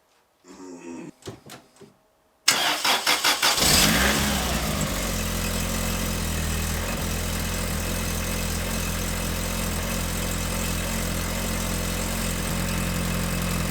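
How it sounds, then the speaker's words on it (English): A Lotus Elan M100 cranks briefly with a few choppy turns, then catches and fires, revving once before settling into a steady, even idle up close, with a small exhaust leak noted. "start the car and confirm that the car works"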